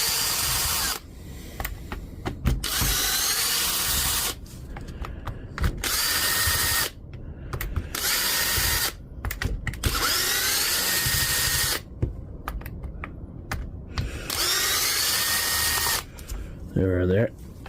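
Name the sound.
power driver removing T20 Torx screws on Milwaukee tool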